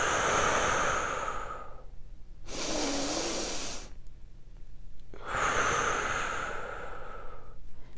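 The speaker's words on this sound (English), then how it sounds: "We want big belly breathing." Slow, exaggerated deep belly breathing comes in long, close, breathy rushes of air. Three drawn-out inhales and exhales alternate with short quiet pauses, with no talking.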